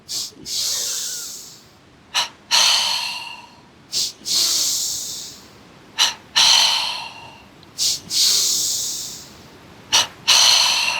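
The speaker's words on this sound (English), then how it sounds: "Inhale belly. Inhale chest. Inhale belly. Inhale chest." Pranayama breathing practice, alternating belly and chest inhales: a repeated pattern of long, loud, airy inhales, each opened by a short sharp gasp, with brief pauses between breaths, close and alone.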